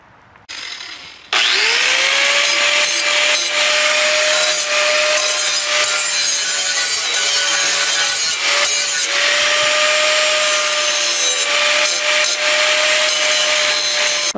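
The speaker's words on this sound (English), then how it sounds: "I'm gonna grind edges off here, and then we're gonna tack weld that together." A power grinder takes the edges off metal pieces for a throttle pedal, spinning up after a brief start and then running loud and steady with a sustained whine and slight pitch dips, no talking.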